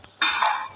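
A bowl is set out for making pizza dough at home, landing with a single short clink followed by a bright ringing ring that fades over the next half second.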